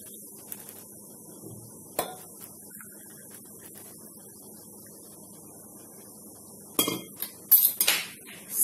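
A spoon clinks against a cup while stirring hot milk into strong coffee, a few faint taps early then a louder cluster of quick metallic clinks near the end, with no talking.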